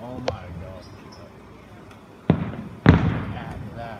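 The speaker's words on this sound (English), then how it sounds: "The fireworks are basically all in one spot." Distant fireworks show bursting over one spot: a sharp crack early, then two heavier booms with rumbling tails a fraction of a second apart, faint and far against outdoor background noise.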